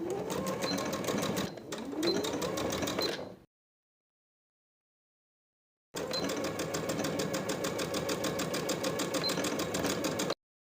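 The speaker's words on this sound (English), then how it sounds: "I'm going to sew from the folded edge to my finishing stitches with a 3/8 inch seam allowance." A sewing machine stitches a button-up shirt seam with a 3/8 inch seam allowance, running from the folded edge to the finishing stitches. A close, rapid mechanical whir plays in two runs separated by a few seconds of silence.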